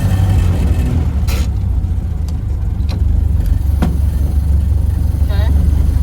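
A Model A Ford engine runs while the car is driven, a loud, close, steady low rumble with a few clicks and knocks, while people talk over it.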